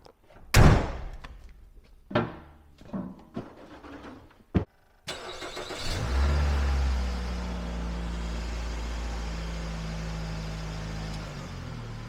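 A Nissan Rogue's door slams a few times, then its engine starts and settles into a steady idle, close by.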